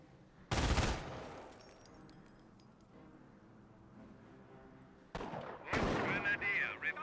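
MG-42 machine gun in the World War II strategy game Company of Heroes: two short, loud bursts separated by a quieter stretch of battlefield ambience, with scattered distant clatter between them.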